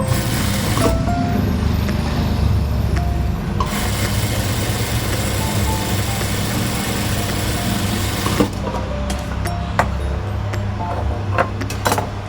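Sewing machine running steadily while stitching a small girl's nauvari saree, a continuous close mechanical whir that holds through the whole stretch with a few light clicks near the end.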